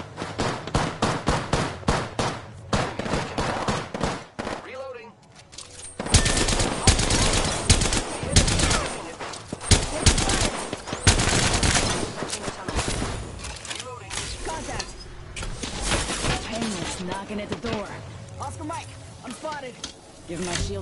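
Rapid bursts of automatic gunfire in a PS4 video game rattle loudly and densely, stopping briefly before resuming in sustained volleys, with voice chat talking underneath.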